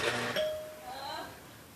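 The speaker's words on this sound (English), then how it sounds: "you go to the doorbell, okay? And I'll tell you when to push it." A pushed doorbell gives a short faint ding with a ringing tone that fades over about a second, heard indoors at low level with some background noise.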